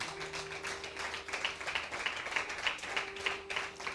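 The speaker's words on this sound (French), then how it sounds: "Clap for yourself" Church congregation at a Wednesday service in Accra, Ghana clapping together: a crowd of hands beating in a quick, irregular rhythm, moderately loud and sustained throughout, with no speech over it.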